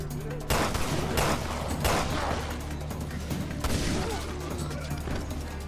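Gunfire in the video game Resident Evil Revelations 2, several loud booming shots in quick bursts over a low rumbling game soundtrack, with no speech over it.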